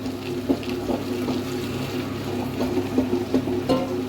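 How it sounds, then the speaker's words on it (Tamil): Water runs and splashes steadily into a wet grinder grinding rice for idli batter, over a low mechanical hum, with small irregular sloshing accents throughout. "இப்போ வந்து நம்ம கொஞ்சம் தண்ணி ஊற்றி கொடுக்கலாம்."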